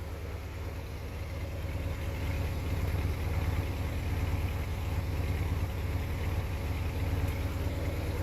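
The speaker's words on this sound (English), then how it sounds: "The carburetor is on it and it is running." A 1969 Plymouth Road Runner's carbureted engine idles steadily nearby, a low rhythmic rumble with a slight uneven putter, running on without voices.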